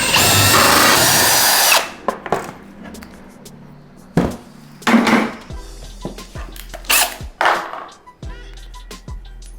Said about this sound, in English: Drill bit back on.